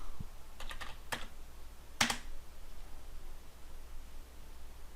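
Several sparse, quiet keystrokes on a computer keyboard while a value is entered in Civil 3D design software, with a couple of sharper clicks over a faint steady hiss.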